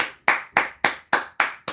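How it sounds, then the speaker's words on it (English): Sharp hand claps ring out about seven times in a quick, even rhythm, loud and close, with no talking, during a live podcast recording. "I hope that clap is not too loud."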